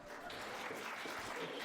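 An audience at a live panel of student reporters bursts into dense, steady applause, a close wash of many hands clapping continuously without a break.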